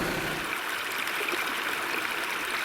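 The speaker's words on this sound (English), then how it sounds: "Just come across the little Laura River." The little Laura River flowing along the old coach road to Maytown, a steady broadband rush and trickle of water that stays even and continuous throughout, with no voices.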